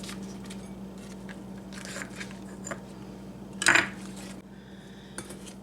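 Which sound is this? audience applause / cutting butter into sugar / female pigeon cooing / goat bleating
cutting butter into sugar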